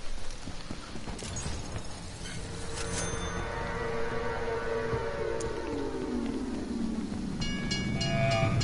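A train rolls past in a video game, a steady mechanical rumble with a long falling pitch sweep as it draws away, plus rhythmic clatter and sharp metallic clicks near the end.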